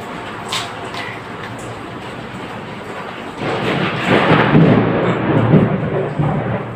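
Heavy rain with a low thunder rumble, a steady wash that swells noticeably louder after about three seconds and stays strong, fairly close and without talk.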